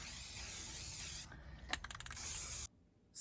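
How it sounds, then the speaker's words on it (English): White spray paint hisses steadily onto a large egg in close-up, a continuous spray that breaks into short bursts and stops, leaving near silence. "just going in with our white spray paint here to get these stripes painted into"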